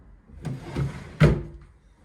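Drawers of a chest of drawers in a rented apartment bedroom being pulled and pushed: a few wooden knocks and sliding bumps close by, the last one a firmer thud.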